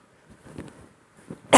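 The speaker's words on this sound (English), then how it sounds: "Is that a sympathy cough out there?" A single sharp cough bursts out from a conference session audience at the end, after faint shuffling and murmurs in a quiet room.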